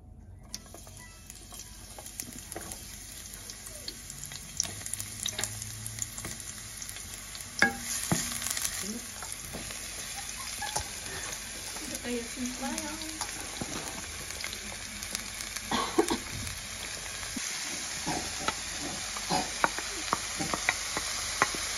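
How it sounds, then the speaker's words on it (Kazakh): Chopped cabbage filling for pirozhki frying in a little hot oil, a steady close sizzle with repeated stirring scrapes and faint clicks throughout, no talking. "Енді турап дайындап қойған салмамызды қуырамыз"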